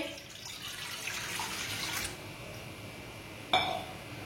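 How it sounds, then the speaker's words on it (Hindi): Water pours steadily into a metal pressure cooker for about two seconds, then stops, followed by a brief clank and splash. "प्रेशर में 1 गिलास पानी डालेंगे।"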